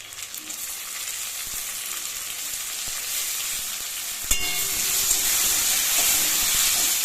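Chopped tomato sizzling in hot oil with asafoetida, a continuous close crackling hiss that jumps louder with a sharp clatter as the tomato goes in, then stays dense and steady.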